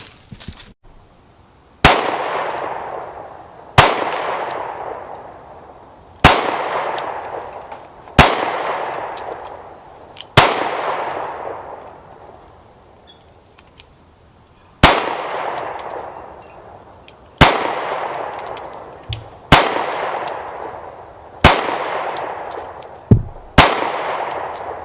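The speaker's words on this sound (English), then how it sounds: "I'm going to be shooting the SIG" A SIG pistol firing at a range, eleven loud sharp shots spaced a couple of seconds apart, each with a ringing echo tail that decays before the next, close and alone without talk.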